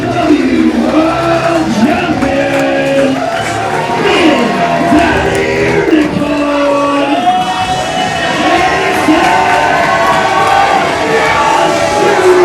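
A wrestling crowd at a PEW Reckoning show roars for Jason Joshua's entrance, loud sustained cheering, whoops and shouts layered over pulsing entrance music throughout.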